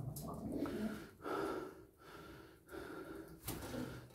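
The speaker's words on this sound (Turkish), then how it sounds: "Yorulduk, nefes nefese kaldık." Heavy, rhythmic panting after a tiring night effort in a pigeon coop: about four deep, rasping breath cycles, close and fairly loud, with sharp intakes and rough exhales.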